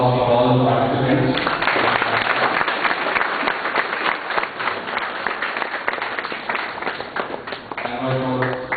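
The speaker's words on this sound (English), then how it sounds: "I would like a big round of applause for all the participants." Warm round of applause from an audience for the participants in a judged event. Full clapping swells after a voice speaks and continues for several seconds before talking resumes over the end.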